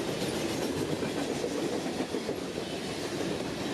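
A CSX freight train rolls past on the Florida mainline at close range, a steady loud roar of wheels and railcars with faint clickety-clack running throughout, no voices.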